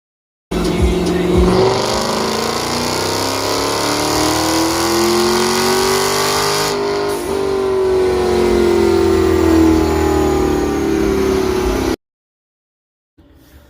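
A Dodge Hellcat engine revs loudly and continuously on a dyno, its pitch climbing and falling in long sweeping pulls, close and overpowering, cutting out abruptly into silence at the end.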